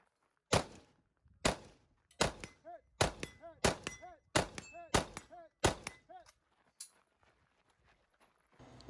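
Bullets strike falling steel targets in a quick string of about ten sharp metallic clangs, several ringing with a bright ding, spaced roughly half a second apart at a multigun match and fading after the last hit.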